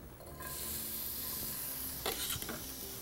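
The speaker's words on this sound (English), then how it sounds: "we'll start out with that great sizzle of these beautiful red onions" Red onions sizzle in a hot pan with extra virgin olive oil, a dense steady hiss close up, with a brief stir or crackle burst partway through.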